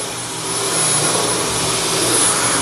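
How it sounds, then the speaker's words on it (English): A Dyson V10 cordless vacuum runs on a heavily soiled carpet full of pet hair, giving a loud, steady high-pitched whine that swells slightly as it works. "You can see how much dirt the V10 is extracting out of this carpet."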